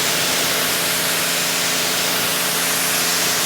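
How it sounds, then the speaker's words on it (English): Cleaner sprayed under a Ford Raptor pickup truck makes a loud, steady hiss of spray that lasts the whole moment without a break, with no voices. "I'm just going to put some on, spray it off, and then put more on, and then agitate it."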